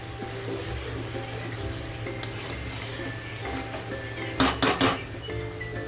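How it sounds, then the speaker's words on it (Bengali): Mutton sautéing in a kadai, with a low steady sizzle and occasional scraping of a spatula against the pan, then a few louder clanks near the end, close by. "এভাবে ভালো করে কষিয়ে নিতে হবে"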